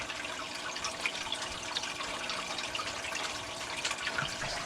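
A steady rush of gently churning water from a Marineland Penguin 350 aquarium filter runs continuously, a soft splashing flow with no voices over it.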